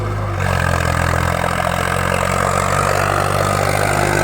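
A heavy tractor engine runs steadily close by, a constant low diesel rumble with a faint rattling clatter on top, picking up slightly after a brief quieter start.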